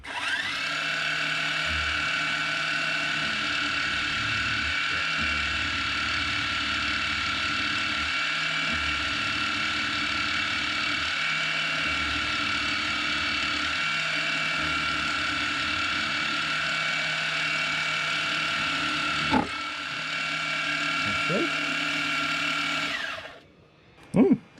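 A milling machine running a 2mm carbide PCB drill at low speed, a steady tonal mechanical whine and hum held for over twenty seconds, with a brief knock near the end before it spins down and stops.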